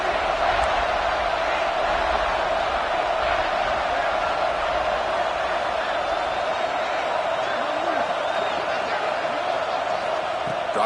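A football stadium crowd roaring on a third down, a steady, loud wall of cheering and shouting that holds for the whole stretch without letting up.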